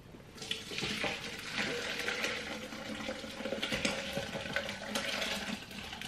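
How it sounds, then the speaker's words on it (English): A blender runs on a low setting, level 3, whirring and churning cooked, soft potatoes in a steady, moderately close drone that holds for several seconds without pause. "here I've got it on a pretty low blend. I have turned it up to level 3"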